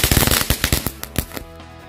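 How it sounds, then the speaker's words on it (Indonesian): A Conic 3 fountain firework erupts with a rapid, loud string of crackling bursts that thin out and fade into a lingering ringing tail. "Air mancur Conic 3 Fountain."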